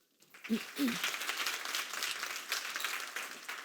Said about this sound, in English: Please give a big round of applause and a warm welcome to Mr. Guy Crawford.